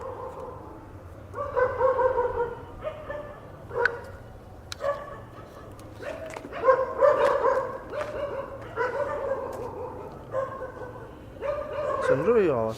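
Several dogs bark and yip in repeated bursts at night, fairly close, with a person talking at times between the barks.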